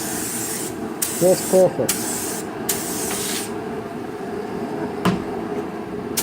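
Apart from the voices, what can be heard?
spray painting color-shifting chameleon paint on a car panel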